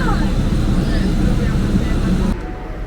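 Steady broadband roar of a fixed-wing airplane at Frankfurt airport, loud and continuous with a low rumble, easing slightly near the end; talk may be faintly mixed in.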